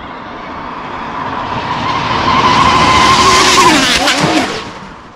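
A fast dual-motor Arrma RC car on a UK road builds to a loud high-pitched motor whine and tire scrub, then sweeps down in pitch and fades as it passes and pulls away.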